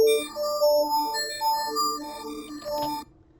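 A synth pad built from a heavily low-passed, hard-compressed piano with distortion and bit crushing, playing a soft, wobbling chordal melody for about three seconds before cutting off.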